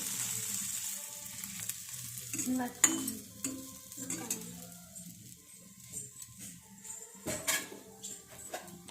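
Bread pieces sizzling in a small amount of oil in a pan for a crispy snack, with a steady soft fry and occasional stirring and utensil clinks close by.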